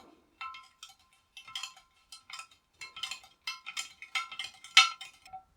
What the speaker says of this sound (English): we can give it a stir in that lovely honey and sugar